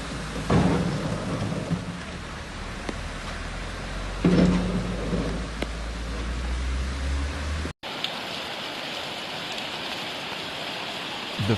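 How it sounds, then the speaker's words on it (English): Thunderstorm with torrential rain during the season's first winter storm in Spain: steady heavy rain roars throughout while loud thunder cracks and rumbles break in twice, then a cut to a hissing downpour. "The first storm of the season, which has left snowfalls and torrential rainfall"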